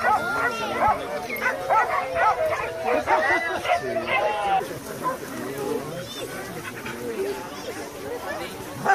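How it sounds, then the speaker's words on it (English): Many dogs bark and yip in a dense overlapping chorus at a very large dog shelter in Costa Rica, busy and fairly close, while a voice talks over the din. "There's over 600 dogs here that visitors and volunteers can play with."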